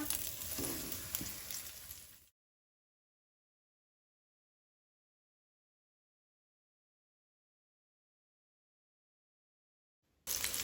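Goan breadfruit slices coated in semolina fry in a pan, a close bright sizzle for about two seconds, then near silence until a short burst of frying at the very end.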